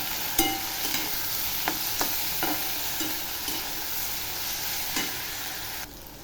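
Tomato and green paste stir-fried in a pan for a cauliflower bhaji, a steady close sizzle broken by several sharp scrapes and clicks of a spoon against the pan.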